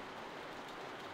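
Steady rain pours in a video game set outside a farm barn at night, a dense, even hiss of drops with no breaks and nothing else standing out, moderately quiet throughout.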